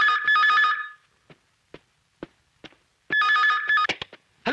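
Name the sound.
telephone ringing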